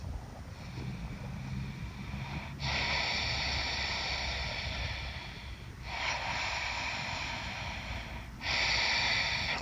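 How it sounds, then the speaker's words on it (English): Ujjayi yoga breathing through a constricted throat gives a hollow, ocean-like rush of air, three long close breaths in slow rhythm, each swelling in and then easing off, with no talk. "start to breathe through the throat as it is a ocean sounding breath."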